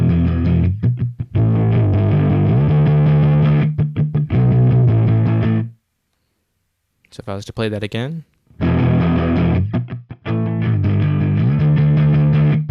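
A distorted electric guitar through a Softube amp simulator in Reason 8 chugs thick, chunky chords, breaks off, and a voice speaks briefly before the crunchy riff resumes at full volume.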